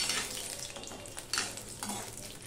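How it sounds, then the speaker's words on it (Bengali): Poppy seeds fry in a pan until reddish, a soft steady sizzle with occasional scraping stir sounds, fairly quiet and close, without speech. "লাল লাল করেই ভেজে নেব।"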